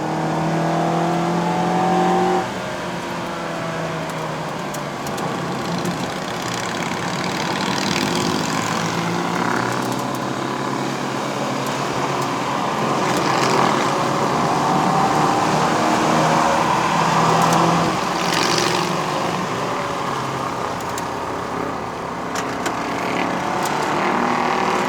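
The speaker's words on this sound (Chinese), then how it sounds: "你们听到那个引擎的声音吗？ 特别不一样啊，那个进气啊。" A 2016 Mazda 3 sedan engine and air intake drone steadily from inside the car while climbing a mountain road in Malaysia, with a rising revving tone and continuous road and wind noise, no talk.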